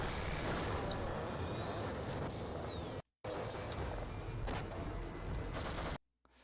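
A burst of gunfire sound effect plays during a tabletop role-playing session, a dense continuous rattle of shots and scraping noise that cuts out briefly midway, then resumes before stopping abruptly.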